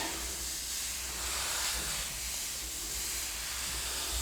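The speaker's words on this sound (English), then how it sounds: "all you're doing is you're steaming the wood, and that steam will go in there and actually swell the the fibers of the wood" A clothes iron steams dents out of the wooden stock of a Ruger M77 .257 Roberts rifle, giving a steady, continuous hiss with no voices.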